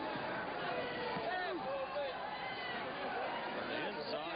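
Excited arena crowd at a WBC super featherweight title fight, Arguello against Castillo, a continuous loud wash of cheering and chatter that swells slightly and never drops away.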